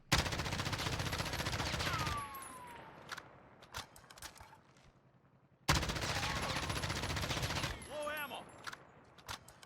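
An M13 rifle loaded with 300 Blackout rounds fires two long, loud automatic bursts in Warzone, each followed by quieter gaps with faint clinks and footsteps.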